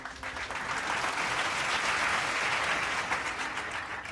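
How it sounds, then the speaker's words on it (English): An audience at a years-of-service staff celebration applauds steadily, a dense, even wash of many hands clapping at once that holds at a constant level for the whole stretch. "Please join me in a round of applause for Dallas Snack."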